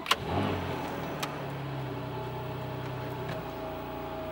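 A sports car engine starts with a quick crank and brief rev, then drops into a steady, fairly quiet idle hum, heard close up with a couple of faint clicks.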